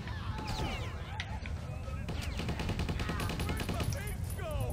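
Rapid bursts of gunfire fill the Stubbs the Zombie game scene, dense and loud, with repeated machine-gun-like volleys near the end and a voice briefly talking over the shooting.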